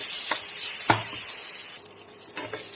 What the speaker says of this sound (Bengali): এবার সেদ্ধ করে রাখা নুডলসগুলো ঢেলে দিব। এগুলো কিছুক্ষণ ভাজবো।